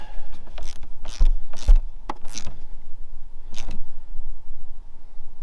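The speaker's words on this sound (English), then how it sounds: "reconnect your negative battery cable. Make sure it's all the way seated, and then we'll tighten that down." A ratchet tightens the negative battery cable on a Chevrolet Cruze 1.4, making close bursts of quick clicking in several short runs with quiet gaps between them.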